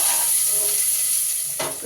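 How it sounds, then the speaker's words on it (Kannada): Chopped onions, added after mustard seeds, sizzle and crackle steadily in a hot pan with oil, with a brief louder burst of sizzling near the end as they are stirred. "ಈಗ ಈರುಳ್ಳಿ ಕಂದು ಬಣ್ಣ ಬರೋ ತನಕ ಚೆನ್ನಾಗಿ ಫ್ರೈ ಮಾಡೋಣ"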